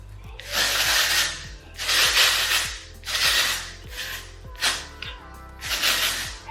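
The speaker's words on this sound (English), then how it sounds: "I'm gonna spray it with the Working Texture Spray" Five long hissing bursts of texture hairspray, each roughly a second, in a steady rhythm with brief pauses between, close and fairly loud.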